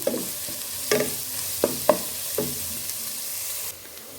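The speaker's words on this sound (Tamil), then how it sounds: "இன்னும் கொஞ்சம் இது நல்லா வதங்க வேணும்." Onions fry in a pan for egg curry: a soft, continuous sizzle broken by several distinct scraping stirs, before the sound cuts off abruptly near the end.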